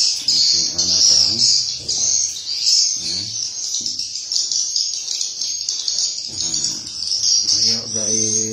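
Swiftlets call inside a swiftlet nesting building, a dense, continuous high twittering chorus close by, while someone talks over it.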